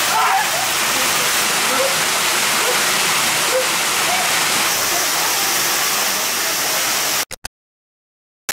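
A Toyama waterfall used for waterfall meditation pours in a loud, steady, broadband roar that holds without pause before cutting off abruptly near the end.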